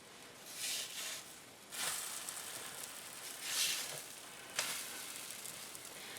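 Pancakes made from muffin mix sizzle on an overly hot griddle, a soft steady crackle swelling in several waves as batter hits the surface.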